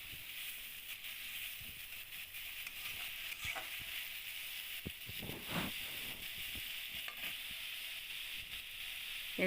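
Chopped tomato frying with taro in a pan, a soft steady sizzle with occasional stirring scrapes, faint and continuous with no talk.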